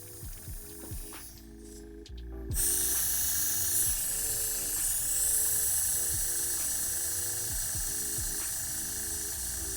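Steady hiss of compressed air from an airbrush being back-blown to mix paint in the cup, starting softer then jumping louder and holding constant, with a faint low rhythmic pulsing underneath from the compressor.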